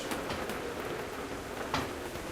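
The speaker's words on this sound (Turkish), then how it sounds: "Yağmur yağıyor. Dışarısı gözükmüyor ama yağmur yağıyor." Rain falling outside in the video game MiSide, a steady soft patter and hiss from drops on surfaces with a few slightly louder taps, fairly quiet and constant with no talk.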